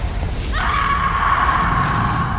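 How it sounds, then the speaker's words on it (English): A woman's scream from the Mortal Kombat film rings out after a brief rustle and echoes on as a sustained, loud, fading wail. "and you hear that scream echo."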